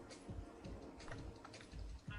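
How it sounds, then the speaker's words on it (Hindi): Faint, soft keystrokes on a computer keyboard as a plus sign is typed, a few scattered clicks in quiet surroundings with no talking. "अपने कीबोर्ड से प्लस का साइन दबाएं"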